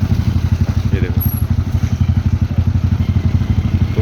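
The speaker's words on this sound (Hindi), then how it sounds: "बाइक वाले निकल रहे हैं" Motorbikes idle and rumble on a blocked mountain road on the Kedarnath to Badrinath route, a loud, steady close engine putter with rapid regular pulses, with brief faint voices in the background.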